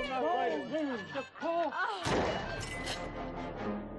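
Gunfire from a LaserDisc shooting video game rings out amid shouted, excited voices, with a burst of booming shots and crashes in the second half, close and loud, layered over game audio and people talking.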